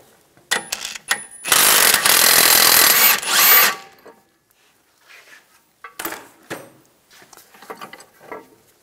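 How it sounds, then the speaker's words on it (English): A 21 mm wrench and ratchet socket breaking loose a bolt and nut on the rear suspension of a 2010-2016 Cadillac SRX, with a loud sustained ratcheting burst up close, followed by scattered metallic clinks and handling noises. "I'm gonna use a 21 millimeter wrench on the nut and 21 millimeter socket on the bolt."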